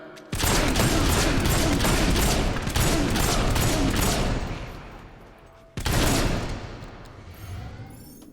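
The Red Dragon gun in Fable 2 firing in rapid bursts, dense loud rattling volleys that stop briefly, then a second shorter burst trailing off, no talk.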